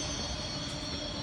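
A metro train rolls past with a steady, loud rumble and a hissing roar that stays constant throughout, with no voices.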